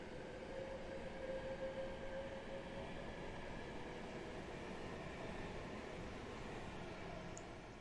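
Steady rumbling train noise in Train Simulator with a faint tonal whine, continuous and fairly even throughout, as a train arrives and departs a station.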